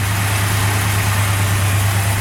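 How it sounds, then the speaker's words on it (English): A 1966 Chevrolet Chevelle Malibu convertible with a 283 V8 idles steadily, a loud, close, continuous low rumble with no voices. "Engine runs excellent, so technically the block is a 283"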